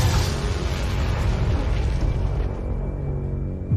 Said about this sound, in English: The impact of the explosion was incredible.